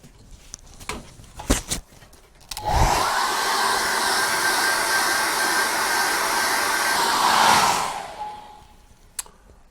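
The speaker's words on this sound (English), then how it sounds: "And dry that with a hairdryer." A hairdryer switches on and blows with a loud, steady whoosh for about five seconds, then cuts off, with a few clicks and knocks before it starts.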